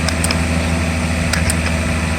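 Mercedes 600SL engine idling with its throttle bodies energized during a test, a steady, close mechanical hum with constant loudness throughout and a few faint clicks.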